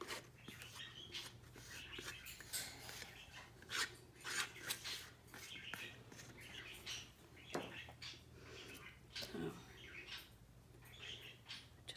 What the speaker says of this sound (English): I'm just using my palette knife to give not too much of a coating, but reasonably generous